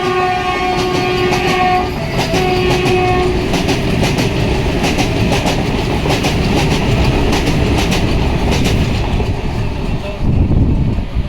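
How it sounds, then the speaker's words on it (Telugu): A Vande Bharat Express train rumbles steadily close by as it departs a station, wheels clattering over the rails while a horn sounds in long tones early on, loud throughout. "వందే భారత్ ఎక్స్ప్రెస్ కావకుంట్ల నుంచి అయితే డిపార్చ్ అవుతుంది"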